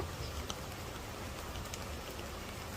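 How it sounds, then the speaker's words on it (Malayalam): Light rain in Lakshadweep patters softly and steadily, scattered drops ticking on a surface now and then, fairly quiet with no one speaking. "അത്യാവശ്യം ചെറിയ മഴയുണ്ട്, വലിയ മഴയായിട്ടില്ല"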